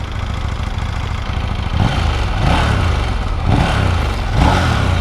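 A KTM 890 Duke R motorcycle with stock exhaust rumbles loud and close, with deep throaty revs rising and falling several times over a steady low idle.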